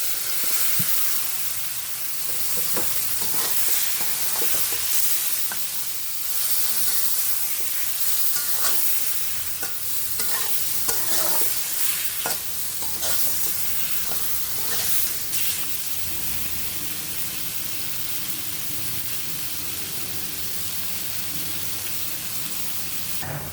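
Spice-coated fish fries in a pan with a constant hissing sizzle, broken by scraping stirs and light clinks, steady and close throughout with no voices.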